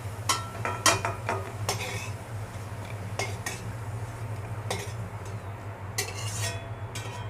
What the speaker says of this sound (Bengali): এখন আমি আলুগুলো তুলে নেব।